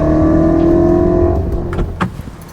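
A BMW X5 M Competition with an M Sport exhaust revs loudly up close, holding a strong engine note before it drops away into sharp pops and crackles.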